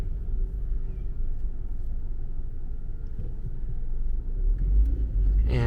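A car pulls away again in stop-and-go city traffic in Osaka, Japan, its engine a steady low rumble heard from inside the vehicle, with no talking.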